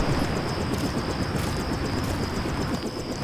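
Helicopter in Deus Ex, a steady dense engine and rotor drone with a faint high whine, loud and continuous throughout with no pauses.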